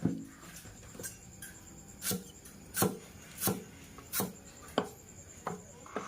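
Knife chopping meat for a Thai larb dish on a board, sharp irregular thuds spaced about a second apart, close and fairly quiet, with no talking.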